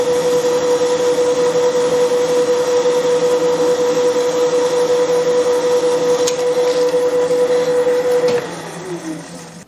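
A 38mm cutter held in a shop-made adapter opens out holes in a tailstock tool rack. It makes a loud, steady machine whine with a strong tone, then slows and fades near the end.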